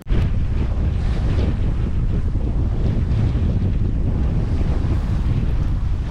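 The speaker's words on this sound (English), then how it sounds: "I didn't expect wind, which is a nice surprise. It's perfect wind." Strong wind at sea aboard a sailing boat near a remote South Pacific atoll in the Tuamotu Islands, a loud continuous roaring buffet across the microphone with wash of water beneath, no voices.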